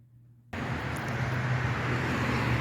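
Steady road traffic noise along Highway 74 starts suddenly after a quiet moment and continues as a constant broadband roar.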